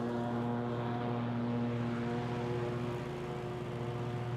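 Riding lawn tractor mowing grass around stones and yellow jacket nests, a steady loud engine drone with strong harmonic hum running continuously close by, no talk.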